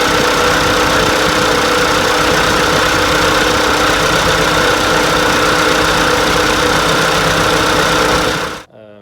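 An old Ford tractor engine runs steadily at idle, close and loud, its even mechanical drone continuing without a break before cutting off abruptly at the very end.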